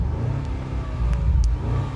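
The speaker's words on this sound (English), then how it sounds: "push this little button down here to put it into dynamic mode. You can hear instantly the exhaust gets a" Land Rover Defender OCTA mild hybrid revs in dynamic mode, a deep, loud exhaust drone swelling briefly and holding steady, with a few light clicks over it.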